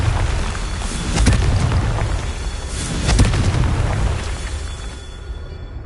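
Repeated Confringo fire-blast spells in Hogwarts Legacy, booming explosive bursts landing about every two seconds over a dense, rumbling game soundscape, loud and close.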